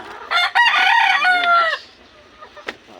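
A backyard stag rooster crows once, loud and close, a strained multi-part call, followed by brief quieter clucks and shuffling.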